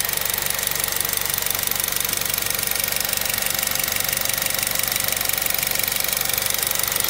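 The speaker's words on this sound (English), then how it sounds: "I'm gonna raise the idle. Raise the idle up to about 800." An Acura RDX engine idles steadily at about 800 rpm, heard up close as a constant, even, mechanical hum with a fine ticking texture and no voices.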